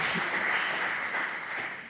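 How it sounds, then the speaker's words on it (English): A dense, steady wash of audience applause greets a quantum mechanics panel member, filling the space continuously before tapering off slightly at the end. "a lot of applause"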